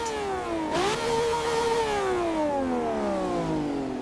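A hypercar engine in Forza Horizon 2 revs hard, snaps through a quick gear change, then holds a loud, strident tone that slowly sinks in pitch, alone with no talk.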